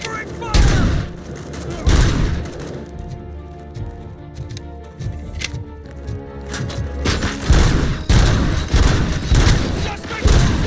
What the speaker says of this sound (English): Cover me! Covering fire!